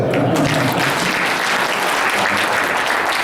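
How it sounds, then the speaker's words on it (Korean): Steady, dense applause from a Korean church business leaders' conference audience in Los Angeles, loud and sustained throughout without pause. "박수 한번 치시죠."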